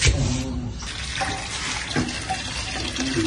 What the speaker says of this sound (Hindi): ये पानी इधर से कैसे आ रहा है? इधर से आना चाहिए।